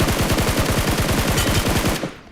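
Rapid automatic gunfire in the mobile game BGMI, from an M416 rifle: a loud, close, evenly spaced burst of about two dozen shots that stops abruptly.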